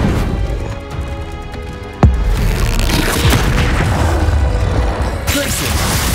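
A Bombarda spell explodes in Hogwarts Legacy, one sharp loud boom with a rumbling tail over dense, continuous game combat sound.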